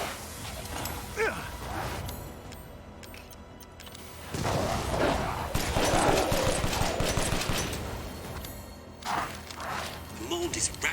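Bursts of automatic gunfire as BSAA soldiers engage bioweapons in the video game Resident Evil Village, rapid volleys rising and falling over several seconds amid other game noise, with a person talking at times.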